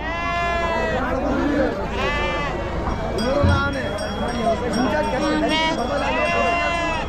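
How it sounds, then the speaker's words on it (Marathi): Many sheep bleat repeatedly and loudly at a large sheep and goat market in Chakan, Maharashtra, overlapping calls close by, with people talking beneath them. "बाकी मेंढ्या तुम्ही पाहू शकाल इकडं"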